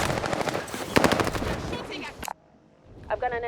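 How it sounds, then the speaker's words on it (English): Rapid submachine gun bursts rattle loudly in a first-person shooter game, then break off into brief quiet before more clipped game sounds return. "I've got an SMG"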